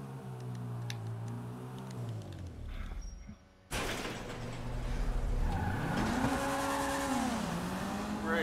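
Toundra Panthere sports car in GTA 5, its engine note rising and falling with gear changes as it pulls away and accelerates, loud and close, following a brief door-like knock and short lull.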